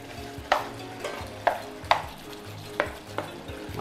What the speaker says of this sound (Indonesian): Lalu kita masukkan dagingnya.